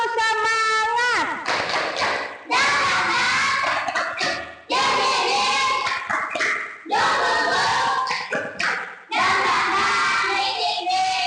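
Children in a primary classroom perform a rhythmic spirit clap, loud patterned bursts of clapping and thumping with chanted voices, repeating in several phrases with short pauses between.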